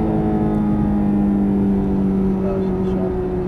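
A Ferrari F430 engine holds a loud, steady drone close by, rising slightly as it accelerates, while someone talks over it.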